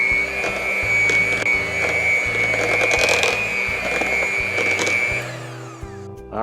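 An electric mixer whirs at a steady pitch while beating mashed potatoes with milk and garlic, with rhythmic knocking against the bowl, then stops near the end.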